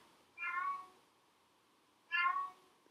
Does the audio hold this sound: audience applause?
no